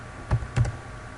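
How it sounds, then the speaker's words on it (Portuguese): A few key presses land on a computer keyboard, close and fairly soft, with one click followed by a quick pair of clicks a moment later. "Vou digitar novamente Cielo aqui."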